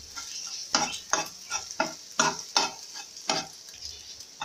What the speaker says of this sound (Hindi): अब हम जल्दी जल्दी तोड़ के इसके छोटे छोटे पीसेस बना लेंगे।